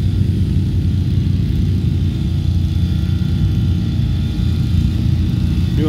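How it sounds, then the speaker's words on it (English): Loud, steady engine rumble of a small Can-Am 450 6x6 ATV driving by close through boggy muskeg, a continuous low drone with no talk. "Mrs. Austin was just driving right by us with this little 450 6x6"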